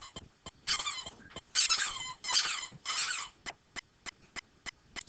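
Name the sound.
excited puppy squeaking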